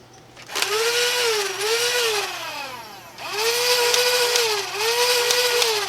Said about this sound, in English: We're also grinding gears.